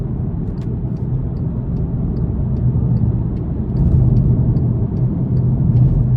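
A 2022 Volkswagen Passat SE with a 174 hp turbocharged four-cylinder, heard from inside the cabin while driving, gives a steady, close engine drone with road rumble that swells slightly partway through. No one speaks.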